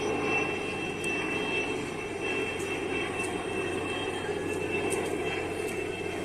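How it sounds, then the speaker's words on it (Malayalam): An airplane passes over near Vandalur Zoo in Chennai, a faint, steady jet-engine roar at a distance with light outdoor background noise. "മൊത്തത്തിൽ ഫ്ലൈറ്റ് അങ്ങോട്ടും ഇങ്ങോട്ടും പോകുന്നതുകൊണ്ട് ആ സൗണ്ട്"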